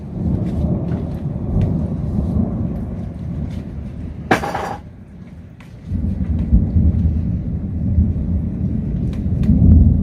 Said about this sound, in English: Wow, I love this storm.